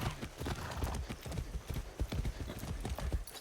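Horse hooves clip-clopping in the Far Cry 6 video game, a steady rapid trotting rhythm of dense hoofbeats, loud and close, continuing throughout.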